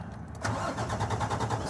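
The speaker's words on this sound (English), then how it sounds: "start the truck" A pickup truck engine cranks briefly with the key and catches, settling into a steady rumbling idle with a rhythmic pulse, close and fairly loud.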